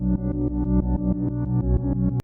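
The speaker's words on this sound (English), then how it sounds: "He loves to use Omnisphere sounds similar to this." An atmospheric Omnisphere synth pad plays a loud, warm sustained chord with a steady pulsing rhythm, cutting off sharply near the end, with no voice.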